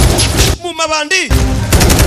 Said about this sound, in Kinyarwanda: Aba bari kurasa.